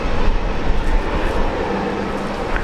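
A Qantas airliner taxiing at Brisbane Airport gives off a loud, steady jet engine roar with a broadband rumbling hiss, close and unbroken for a few seconds, with no talking.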